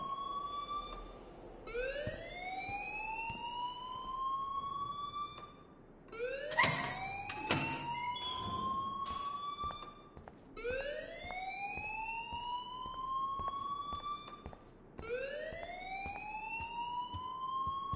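A repeating rising siren-like alarm in a video game, with several sweeping wails in steady succession, loud and continuous, punctuated by a few sharp clanking sounds midway.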